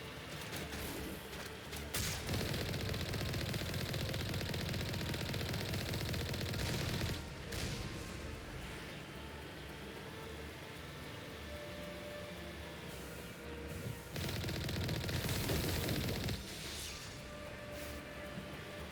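Gunfire in the Mass Effect video game: long bursts of rapid automatic fire come in loud clusters, separated by quieter stretches of lighter shooting and background game noise, with no speech.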